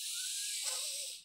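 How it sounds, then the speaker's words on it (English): A single deep, slow inhale taken during a guided breathing exercise, airy and close, rising in the middle and fading out at the end, with no talking. "Just take 3 deep grounding breaths with me."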